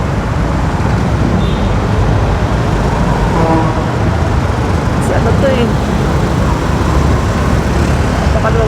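Steady road traffic on a congested route near Mandaluyong, Manila, a continuous loud roar of vehicles running throughout, with a person talking over it.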